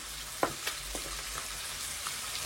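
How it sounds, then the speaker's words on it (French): Onions frying in a pan, a faint steady sizzle with a few sharp clicks and stirring taps early on, quiet and close, no talking. "je mets des oignons dedans"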